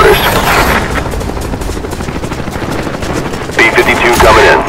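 A Cobra attack helicopter arrives in the Black Ops 1 video game, its rotor thrum running under dense gunfire and explosions, and a burst of louder combat comes near the end.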